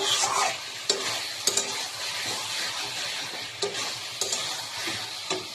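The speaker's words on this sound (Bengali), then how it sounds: "কষতে থাকবো ভালো করে, দেখতে পাচ্ছ।" Rohu fish curry with potato and cauliflower is sautéed in a pan, a constant bright sizzle punctuated by repeated sharp spatula scrapes and knocks against the metal, close and continuous.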